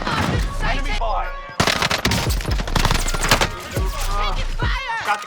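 Gunfire from Call of Duty Modern Warfare 2 gameplay, with dense bursts of automatic shots and impacts mixed with game sounds and voices, loud and continuous through the clip, with a short gap midway.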